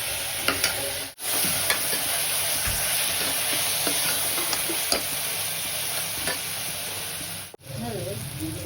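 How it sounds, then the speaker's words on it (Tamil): Tomatoes frying in hot oil for mutton kuruma, a dense continuous sizzle with scraping stirs and light clinks of a spoon against the pan, close and steady throughout. "நல்லா அடி பிடிக்காமல் வதக்குங்க."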